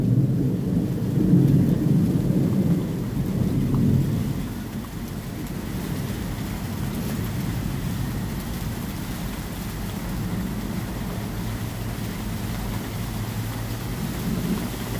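Thunderstorm near San Antonio, with heavy rolling thunder booming loudly for the first few seconds before easing into a steady wash of rain and wind that carries on through the rest, with no voices.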